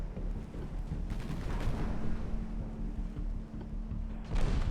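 Heavy naval guns boom in a dreadnought-era sea battle from Ultimate Admiral: Dreadnoughts, with deep, rolling blasts over a low steady rumble and a fresh loud report near the end.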